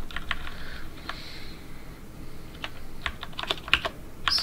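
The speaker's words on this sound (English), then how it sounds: "Let's type it out by hand." Typing on a computer keyboard, a run of crisp, close key clicks in irregular bursts with short pauses between, a few louder taps near the end, with no voices.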